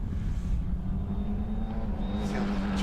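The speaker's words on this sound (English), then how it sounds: "Terrific sounding race car." A Formula 4 race car engine drones steadily at a distance during a championship race, a low sustained rumble with a faint rising whine near the end.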